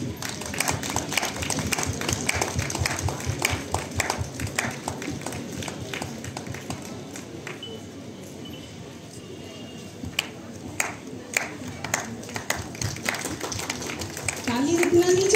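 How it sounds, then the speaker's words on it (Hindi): Audience at a school fair clapping through a ceremonial lamp lighting, with continuous steady applause throughout and bright metallic pings over it, and a voice speaking over the crowd. "ताली रुकना नहीं चाहिए, बजते रहना चाहिए, जब तक दीप प्रज्वलन हो रहा है बजते रहना चाहिए ताली।"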